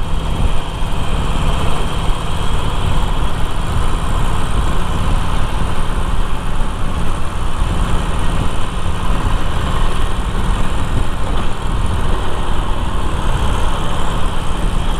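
A Harley-Davidson Iron 1200 motorcycle with no exhaust idles loudly outdoors near the airport entrance in Salvador, a steady, unbroken engine rumble that holds at constant level throughout.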